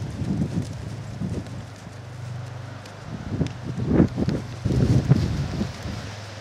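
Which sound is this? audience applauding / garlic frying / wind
wind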